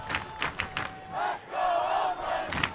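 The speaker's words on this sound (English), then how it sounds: "Crowd is into it now." Baseball crowd at Oakland Ballers opening day in the bottom of the ninth, rising shouts and cheering swelling in waves, with scattered claps and whistles, loud and close.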